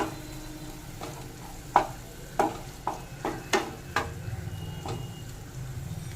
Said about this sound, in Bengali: টুকরো করে কেটে রাখা টমেটো এবার সব দিয়ে একটু কষিয়ে নেব